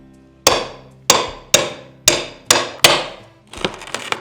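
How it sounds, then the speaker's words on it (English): Bolster and crowbar hammered behind old skirting boards in a Lincolnshire farmhouse, six sharp loud metallic strikes at an uneven pace, each ringing briefly, followed by a quicker cluster of lighter knocks, with no talking. "So I've got a bolster, crowbar, a few different things."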